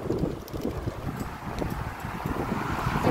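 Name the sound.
strong wind blowing dust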